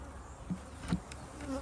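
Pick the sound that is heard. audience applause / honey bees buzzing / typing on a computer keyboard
honey bees buzzing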